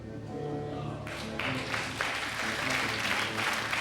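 A French game-show studio audience applauds after the banker raises his offer, a dense steady clapping that swells slightly partway through, with music or background sound underneath.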